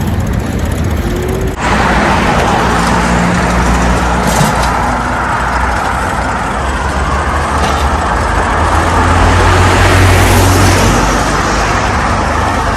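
Steady roar of road traffic on a busy Shanghai street near a school and mall, cars, buses and trucks passing close by in a continuous dense wash of engine and tyre noise with no pauses.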